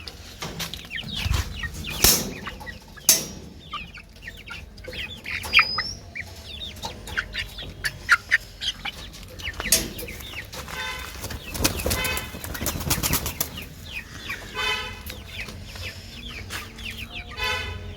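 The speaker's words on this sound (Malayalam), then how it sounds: "എൻ്റെ കോഴികളെ കോഴിക്കുഞ്ഞുങ്ങളെ കണ്ടോ" Hens and chicks cluck and cheep close by in a coop, with busy overlapping clucks, high peeping chirps and an occasional flutter of wings throughout.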